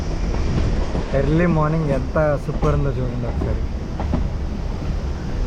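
MEMU train running from Rajahmundry to Vijayawada, a continuous rumbling cabin drone with someone talking over it close up.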